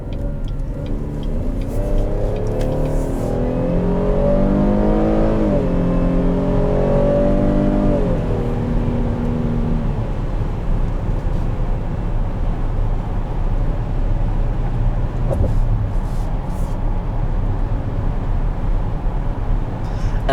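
A 2020 Chevrolet Traverse RS SUV's 3.6-litre engine revs up as it accelerates, its pitch climbing steadily for several seconds before settling into a loud, steady road roar.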